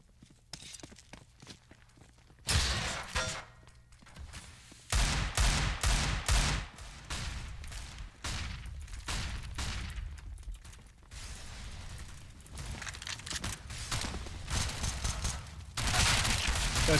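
Counter-Strike match on the Mirage map with dense, loud bursts of rifle gunfire and explosive grenade blasts in rapid, overlapping volleys, close and continuous throughout.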